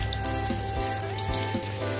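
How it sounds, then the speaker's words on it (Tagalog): Halved longganisa sausage fries in a pan with a steady, close sizzle and occasional soft pops and crackles, continuous throughout with no talking. "Sinalang na po natin yung ating longganisa."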